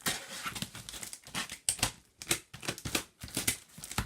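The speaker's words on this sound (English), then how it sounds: "So let's just cut open this box." A cardboard box packing a Dyson DC05 Motörhead vacuum is sliced and torn open up close, with a rapid run of scraping, crinkling cuts and rips in irregular bursts.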